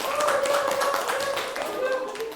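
A classroom of students clapping for a student named Azam during a math lesson, a short burst of scattered hand claps mixed with voices talking and cheering.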